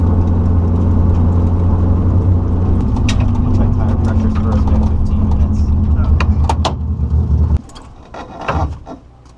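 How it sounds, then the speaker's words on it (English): A car interior on a paved main road through a valley, with a steady engine drone and road noise heading to a rally stage that drops off abruptly near the end, followed by some rattles and knocks. "it's nice to get to see all the other rally cars heading out to stage"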